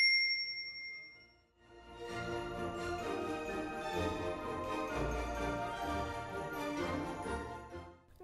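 A notification bell rings a single bright ding that lingers and fades, followed by a fuller, steady musical passage.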